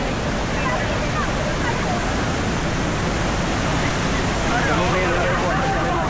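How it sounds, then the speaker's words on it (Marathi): The Kalu waterfall, seen on a misty monsoon trek, gives off a steady, dense roar of rushing water that fills the whole stretch without letup. "वॉटरफॉल आपल्याला दिसतोय, धबधबा दिसतोय."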